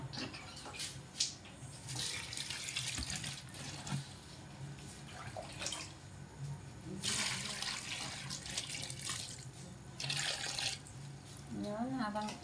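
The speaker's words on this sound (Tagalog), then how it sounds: "habang binababad natin yung repolyo, hugasan po ulit natin pangalawa" A kitchen tap runs steadily while cabbage is washed in a sink, a continuous hiss of flowing water with brief louder splashing surges, with someone speaking quietly over it.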